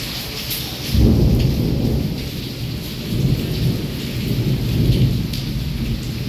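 Thunderstorm in Wankaner at night with heavy rain and wind: steady loud downpour under repeated rolling thunder rumbles, near and continuous, with no voices.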